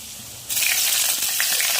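A bay leaf drops into hot oil already holding a cinnamon piece and three cardamom pods, setting off a sudden loud, steady sizzle after a brief quiet start.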